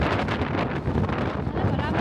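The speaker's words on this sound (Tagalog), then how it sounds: "Grabe yung hangin." Strong wind buffets the microphone outdoors in a constant loud roar and rumble that fills the whole stretch and covers everything else.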